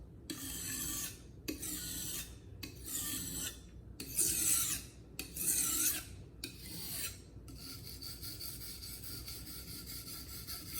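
A traditional fillet knife is drawn across a sharpening stone in six distinct rasping strokes, each about a second long with short gaps between them, close and quiet, followed by a softer steady hiss.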